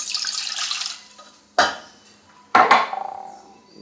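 A spoon stirs white sugar into water in a pot, giving a burst of scraping and swishing, then two sharp clinks of metal against the pot, each followed by a brief ringing rattle.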